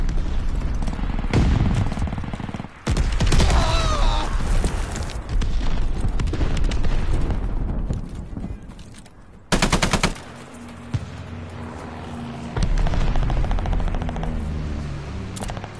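Heavy gunfire rattles through a Call of Duty Vanguard match, with dense automatic bursts and booming impacts broken by a few brief lulls, continuing loudly throughout.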